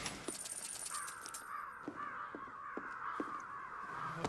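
Repeated harsh cawing from a flock of crows in Ghostwire: Tokyo, calls overlapping in a steady stream over quiet ambient game background with a few small clicks.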